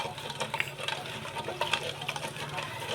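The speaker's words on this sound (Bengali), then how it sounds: "এতে ভিনিগার দিলাম, তেল দিলাম। এবার আমি নাড়তে থাকবো।" Vinegar and oil are stirred for pancake batter, making quick, close, wet scraping strokes in a steady rhythm across three seconds, with a voice talking over the stirring.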